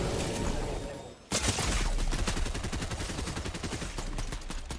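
Rapid bursts of gunfire in a Fortnite Wilds trio match, dense repeated shots after a brief dip, loud and continuous with heavy game-action noise.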